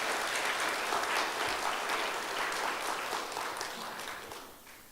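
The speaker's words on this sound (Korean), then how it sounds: "우리 수고하신 모든 분들을 위해서 다 같이 우리 박수로 감사의 마음 표현하겠습니다" A church congregation claps together during a Sunday service, a warm, even wash of applause that starts strong and gradually fades over a few seconds.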